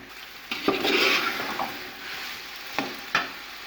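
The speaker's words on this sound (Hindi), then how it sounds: "इन सबको अच्छी तरह से मिक्स कर लेंगे" Chicken, potatoes, cauliflower and other vegetables for a chicken vegetable pulao are stirred together in a pot, with a few distinct scraping strokes and clinks over a soft sizzle.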